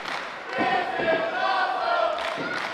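A live wrestling crowd at an independent show cheers and roars after a main event, with rising shouts and yells swelling throughout.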